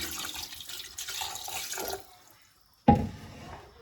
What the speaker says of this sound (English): And then I'll add some water to it